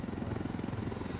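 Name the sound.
helicopter in the video game Ghost Recon Wildlands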